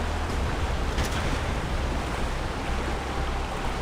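Steady broadband rush of a waterfall pouring into water in the game Far Cry 3, a continuous, full, close roar with no breaks and no voices.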